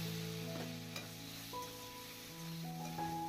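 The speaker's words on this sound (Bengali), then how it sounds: "বাটার দেওয়ার পর আমি এর মধ্যে দিয়ে যে টমেটো কেটে রেখে দিয়েছি, সেই টমেটো আর কাজু বাদাম দিয়ে একটু ভেজে নেব ভালোভাবে।" Tomato and cashew nuts frying in a pan of butter and oil, giving a steady close sizzle with occasional stirring scrapes, alone with no voices.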